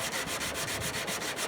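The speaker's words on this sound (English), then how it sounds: "Just a little hand sanding with this thing" Small hand sander scrubbing over planed wood boards for a feature wall, a close, steady rhythmic rasp of quick back-and-forth strokes, about eight passes with no talking.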